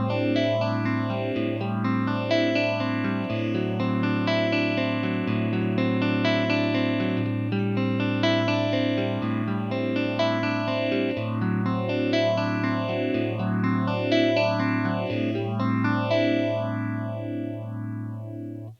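Sustained distorted electric guitar chords through a phaser set with the wet signal backed down, the slow sweeping notches cycling steadily across the tone; loud and continuous, no talking, fading slightly at the end.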